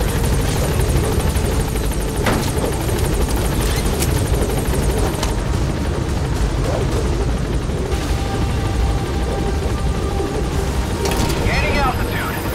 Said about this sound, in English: Board the chopper when you're ready.